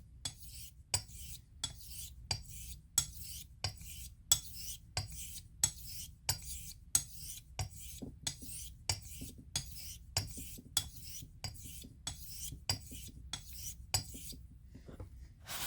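A Dovo Bergischer Löwe 3680 straight razor stroked across a honing stone, soft Arkansas type: a steady run of short, crisp scraping swipes in even rhythm, close and quiet, with brief pauses between strokes and no talk.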